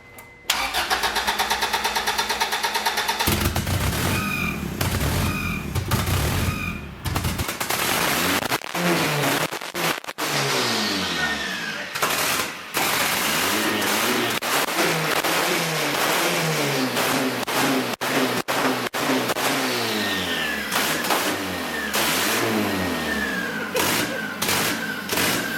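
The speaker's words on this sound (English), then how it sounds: "I'm gonna start the Accord." Boosted F23 Honda Accord with a newly finished exhaust cranks, catches and settles, then revs repeatedly in loud rising and falling sweeps, close by and with no talking over it.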